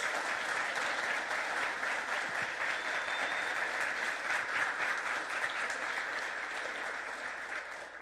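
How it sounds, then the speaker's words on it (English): Audience applause at a special governing board meeting honoring student writers, a sustained, fairly loud roar of many clapping hands that slowly fades toward the end. "One more round of applause for the incredible writers."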